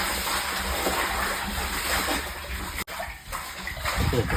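Water pouring and splashing into a household water tank during cleaning, a steady broad gush running almost the whole time with a brief break near the end before it resumes.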